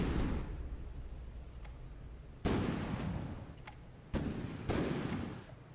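Heavy battleship guns from Agincourt fire in a naval video game battle, sharp booming blasts at about 2.4, 4.1 and 4.7 seconds, each rolling off into a long rumbling decay over a low background roar.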